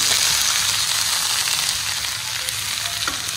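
Pieces of pork for Mangalorean pork chilli frying in a pan over medium flame, a loud, dense, continuous sizzle with a faint clink near the end and no talking.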